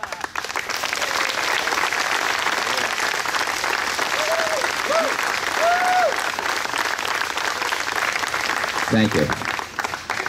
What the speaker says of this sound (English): Can we give one round of applause for our new elected officials, the new team of Muttontown?